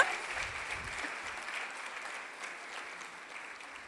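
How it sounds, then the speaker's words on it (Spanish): Steady applause from a small crowd, moderately loud and continuous, slowly fading a little over a few seconds. "vamos a darles un aplauso a nuestros corredores"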